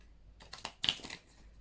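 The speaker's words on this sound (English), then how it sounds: "It just makes them so much more difficult to shuffle." Small tarot cards being shuffled by hand, a few quick soft papery riffles and taps close by, faint and with no talking.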